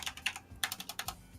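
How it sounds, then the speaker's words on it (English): Keys clack on a computer keyboard in short bursts of quick taps with small pauses between them, fairly close and quiet, and nobody speaks over the typing. "I'm typing in the gunslinger."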